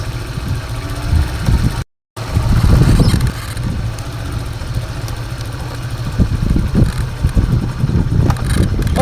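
A motorcycle engine runs nearby with a steady low rumble and throb, briefly cutting out before resuming and continuing with uneven vibration.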